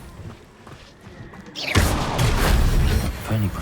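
An Incendio fire spell blasts rocks in the Hogwarts Legacy video game: a quiet stretch breaks into a sudden loud burst, then a dense roaring crackle that holds to the end.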